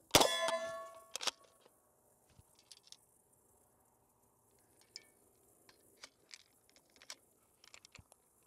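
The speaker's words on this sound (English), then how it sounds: "So the casing drops and the ammo that was trying to cycle drops." A spent casing and a live 9mm round drop from a PTR 9CT MP5-clone rifle, landing with a bright metallic clang and ring. Several faint small ticks and clinks follow in an otherwise quiet setting.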